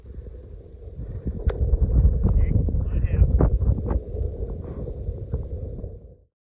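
Wind buffets a microphone outdoors at Bilburning Rock in Western Australia, a steady, loud low rumble with gusty swells that persists throughout and cuts off abruptly at the end.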